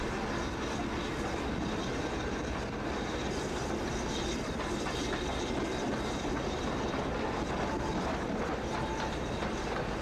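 Class 166 DMU diesel train in Train Simulator rolling steadily on rails from Reading to London, a continuous loud rumble with a faint rhythmic clickety-clack throughout, no voices.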